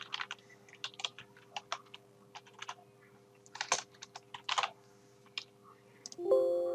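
Fingers type a password into a computer login form, producing a quick, close run of light, uneven key clicks with short pauses, ending in a brief steady tone.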